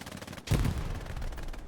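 Machine gun fire in Hell Let Loose, a sudden loud burst breaking in after a short lull, then a sustained rumbling, echoing roar of shots and battlefield noise.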